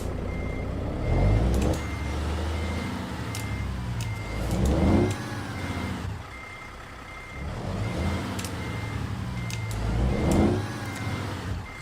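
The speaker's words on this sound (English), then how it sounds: "Get this municipal truck, as they called it, backed in here." A municipal dump truck reversing in American Truck Simulator, its backup alarm beeping steadily in even pulses over a loud idling and revving diesel engine, with air-brake hisses between movements.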